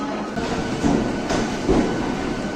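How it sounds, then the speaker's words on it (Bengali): A local train with an 18000 series rake pulls out of Howrah station, giving a steady near rumble and rolling wheel noise throughout, with a few slight rises in loudness. "আমাদের ট্রেন হাওড়া থেকে ছেড়ে দিল তার ঠিক নির্দিষ্ট সময় ছটা বেজে দশ মিনিট"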